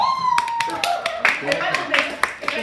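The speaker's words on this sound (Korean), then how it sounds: "박수 한번" Students in an art history class clap their hands, a burst of sharp claps mixed with a teacher's talking.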